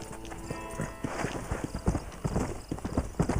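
Galloping horse in Red Dead Redemption: rapid, steady hoof clip-clop over rumbling ground noise, with an occasional whinny, fairly close and continuous.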